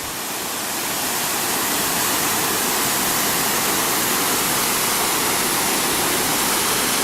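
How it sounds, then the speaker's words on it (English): A steep waterfall near Thunder River in the Grand Canyon roars as a dense, constant rush of falling water, loud and close, with no voices. "Waterfalls right here, really steep."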